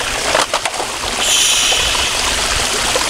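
Steady splashing rush of a small waterfall, close and continuous, with brief droplet patters on top.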